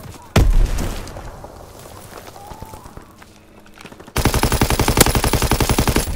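Rapid machine-gun fire from a strafing run in the Call of Duty WWII multiplayer map Shipment 1944, a loud dense burst of repeated shots that starts abruptly after a single sharp bang and quieter battlefield noise.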